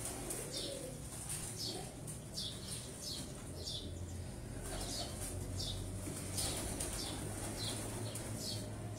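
Breeder pigeons coo softly again and again, with occasional wing flaps and faint chirps, at a moderate distance in a quiet setting.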